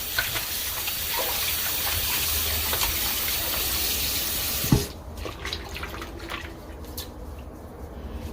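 Plantain rinsed under running tap water, a steady splashing flow that stops abruptly partway, leaving scattered drips and handling sounds.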